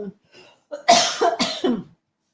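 A person coughs a few times in quick succession, a short rasp followed by two or three louder, close bursts, with brief faint vocal sounds before.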